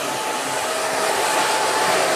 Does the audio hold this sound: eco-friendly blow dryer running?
yes